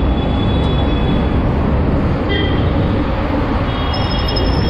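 Delhi Metro train rumbling past overhead near Shastri Nagar metro station, a loud continuous roar of rolling wheels with faint high squeals, heard from the street below.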